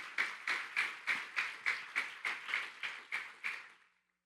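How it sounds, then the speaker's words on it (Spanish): Rhythmic unison clapping from a church congregation, about a dozen evenly spaced claps at a steady beat, each with a short decay, then stopping cleanly into silence. "¿Cuántos le dan ese fuerte aplauso a nuestro amado Señor?"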